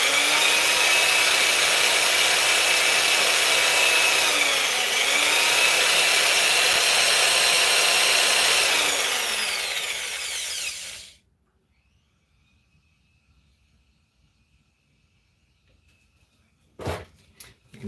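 A power drill working a silver dollar coin into a ring, steady loud whirring and grinding for about ten seconds with shifting pitch sweeps, then it stops, leaving near silence and a couple of short knocks at the end.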